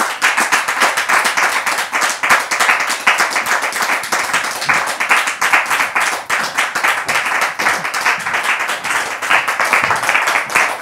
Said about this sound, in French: Merci de les recevoir sous vos applaudissements, très chers publics.